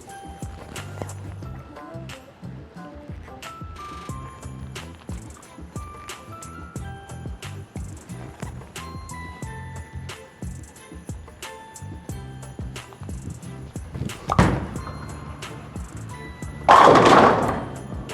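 A bowling ball rolls down a lane, with a loud crash of pins near the end, behind the head pin, plus a second burst of clatter shortly after. Scattered thuds and background noise from the bowling center run throughout.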